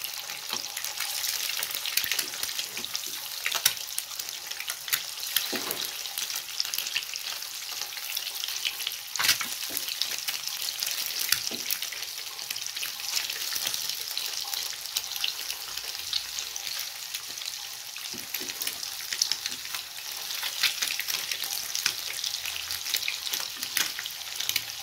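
Eggs frying in a pan of oil or ghee, a steady crackling sizzle that runs throughout at moderate level, with occasional faint clinks, and no talking.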